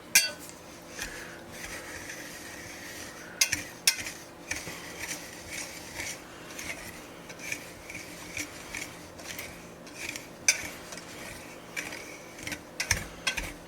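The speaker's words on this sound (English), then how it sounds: "We're going to get that whisked together." Flour, sugar and baking powder being whisked together in a bowl for corn dog batter, a continuous scratchy rubbing with repeated clinks of the whisk against the bowl at close range.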